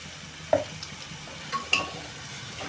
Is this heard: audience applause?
no